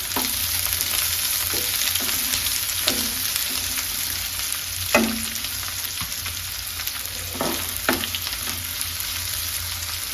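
Onions with curry leaves fry in a pan for spring onion curry, a continuous close sizzle with several sharp spatula scrapes and stirs scattered through it.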